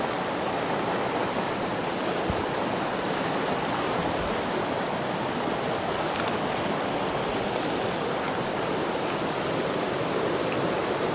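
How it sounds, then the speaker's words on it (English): Steady rushing water of a Blue Ridge backcountry creek in winter flows continuously, a broad even wash of sound with no voices. "Beautiful creek."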